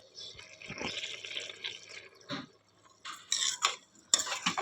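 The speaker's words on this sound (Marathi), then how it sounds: "मी असेच धुत असते तांदूळ" Rice grains are swished and rubbed by hand in water in a pot, giving intermittent wet sloshing and gritty rustling bursts with short quiet gaps between them, close and fairly soft.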